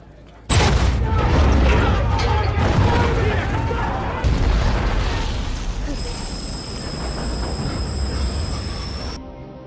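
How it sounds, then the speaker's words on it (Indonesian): A torpedo strikes a ship carrying British soldiers at night in the film Dunkirk: a sudden loud blast that rolls into a long, heavy rumble, with a steady high whine appearing partway through. "tiba-tiba kapal yang membawa tentara Inggris terkena tembakan torpedo."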